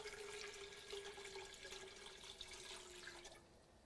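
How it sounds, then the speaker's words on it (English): Four cups of water pour steadily into a stock pot, a continuous splashing rush with a rising tone as it fills, then easing off at the end. "I'm going to add 4 cups of water."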